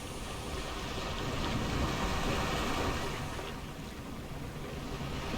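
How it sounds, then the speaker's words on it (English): Steady rain and falling water droplets in Planet Coaster, spilling off the top of a waterfall in a custom-built park, form a continuous broadband wash with no breaks and no voices. "I added the little rain there to make it look like it was the water droplets coming off from the top of the waterfall."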